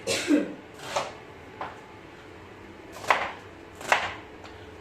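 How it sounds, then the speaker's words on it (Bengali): Knife chopping onions on a cutting board, cut round and round as prep for a chicken dish in a home kitchen; a few separate chops and scrapes spaced irregularly, moderately quiet, with no talking. "এখন পেঁয়াজ কাটা হচ্ছে এটা হবে চিকেনের জন্য মনে হচ্ছে"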